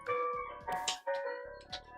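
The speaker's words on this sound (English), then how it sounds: "the ice cream truck is back" An ice cream truck in the life-simulation game The Sims 4 playing its bright, tinkling music-box jingle in short melodic phrases, clear and fairly close, with no talk over it.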